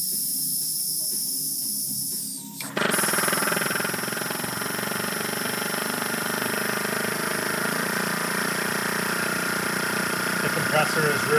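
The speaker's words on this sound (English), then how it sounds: "This solenoid keeps exhausting air." A weak ARB air compressor's solenoid exhausts air in a sudden, loud, continuous hiss that cuts in after a quieter stretch and holds steady, close up, beneath a running motor hum.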